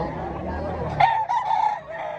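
A rooster crows loudly in a single drawn-out call, rising over a background of other voices and farmyard noise that fills the first half, at a gamecock expo and auction in Barili, Cebu.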